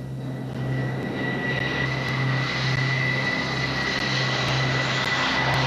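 A McDonnell Douglas F/A-18 Hornet jet engine roars steadily at a constant, fairly loud level, with a faint high whine throughout and no voices.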